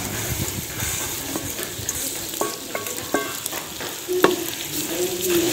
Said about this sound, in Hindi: और सुइयों को घी में अच्छी तरह भून लेना।